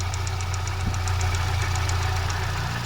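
A Kia Spectra engine runs with the oil filler cap removed, giving a steady close idle with a rapid rhythmic ticking and pulsing knock over a low hum, no voices.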